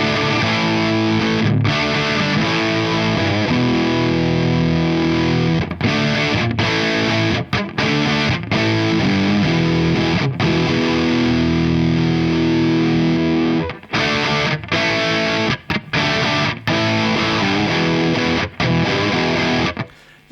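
Continuous, thick overdriven electric guitar through an Earthquaker Dunes pedal in MOSFET mode with the gain turned up, loud sustained chords and riffs broken by brief choked gaps.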